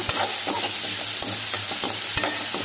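Onions fry in a pan with a loud, steady close sizzle and repeated scrapes and taps of stirring.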